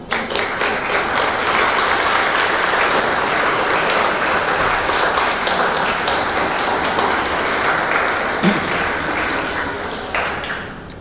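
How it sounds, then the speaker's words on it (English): A graduation audience stands and gives a hearty round of applause, dense sustained clapping from many hands that fills the hall for several seconds before tapering off near the end. "Please stand, face them, and offer a hearty round of applause."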